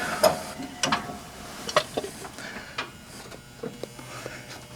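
Several sharp mechanical clicks and ratcheting snaps at irregular intervals from a seat lever inside an M50 Super Sherman tank, close by, with faint rustling between them.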